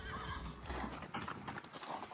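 Horses trained for endurance racing, with close hooves clip-clopping in an uneven rhythm and a loud neigh ringing out, the sounds overlapping with some outdoor noise.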